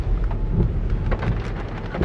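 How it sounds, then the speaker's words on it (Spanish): Rain falling fairly heavily during a thunderstorm on a street, a dense, continuous hiss of drops hitting surfaces with low rumbling underneath, steady and close, no talk. "ya empieza a caer mucho la lluvia, medio fuertecito"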